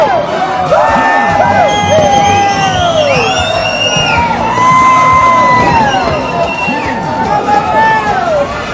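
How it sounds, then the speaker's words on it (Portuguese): Football fans in Coniza, Bahia, cheer loudly after Brazil's win against Cameroon, a dense close crowd of shouts, whoops and high children's voices rising and falling continuously with no pause. "a torcida conizense foi ao delírio com a vitória contra Camarões"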